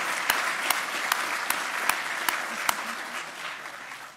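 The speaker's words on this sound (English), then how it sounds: "give applause for the committee" Audience applause for the Abel Committee at the 2015 Abel Lectures, a steady, moderately quiet wash of clapping from a seated hall, with a few sharper nearby claps standing out at an even pace before the sound tapers slightly.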